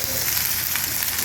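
Freshly added tomatoes fry in a pan for a Tamil drumstick and drumstick-leaf curry, giving a steady, close, continuous sizzle with no talking.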